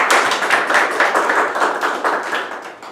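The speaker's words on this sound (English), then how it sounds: "let us give a big applause" Steady applause from a Toastmasters club meeting audience, a dense wash of many hands clapping continuously at close range for a few seconds, with no talking over it.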